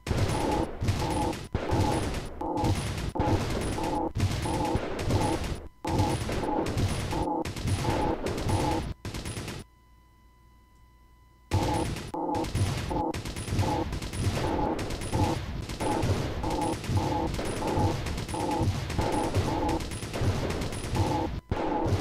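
Heavy anti-air rocket launcher turrets fire in the mobile tower defense game Robo Defense. Rapid, loud, continuous volleys of shots break off briefly into near-silence midway, then resume at the same pace.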